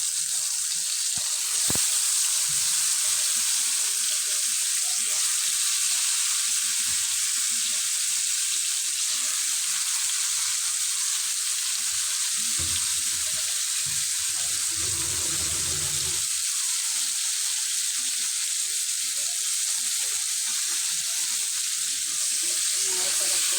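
Sliced pointed gourd frying in hot oil in a pan for a Bengali potol bhaja, giving a steady, fairly loud sizzle with a surge of crackling partway through as the pieces go in and are moved around.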